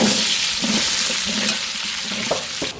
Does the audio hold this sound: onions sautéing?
yes